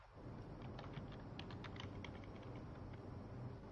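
Keys clatter in a quick, steady patter on a computer keyboard, faint and somewhat distant over a low room rumble, with no voices.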